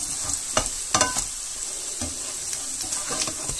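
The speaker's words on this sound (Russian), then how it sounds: "И вот жарим на медленном огне." Steady sizzling of zucchini fritter batter frying in a pan over low heat, a constant crackling hiss with occasional louder pops and spatters.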